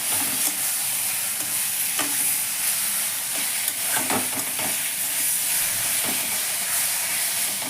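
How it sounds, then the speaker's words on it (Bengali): Fried pumpkin pieces are stirred into mustard paste in a hot pan for a Bengali bottle-gourd-peel chechki, giving a constant loud sizzle and hiss broken by repeated scraping stirs. "সর্ষে বাটাটা দেওয়ার পরে এবার আমি যে কুমড়োটা রেখেছিলাম, ভাজা কুমড়োটা এবার আমি দিয়ে দিচ্ছি।"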